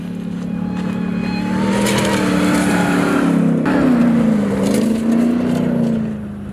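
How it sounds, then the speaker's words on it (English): A 2021 RAM TRX's supercharged V8 revs loudly and continuously up close, its deep exhaust rumble rising and falling in pitch under a layer of supercharger whine, with no talking. "between the sound of the supercharger and then just the exhaust from this massive V8, this thing sounds so ridiculous"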